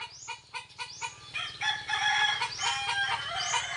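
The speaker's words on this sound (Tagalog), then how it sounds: "kaya pala maingay yung mga manok" A flock of noisy chickens clucks and crows close by, overlapping calls rising and falling in quick repeated bursts with no talking.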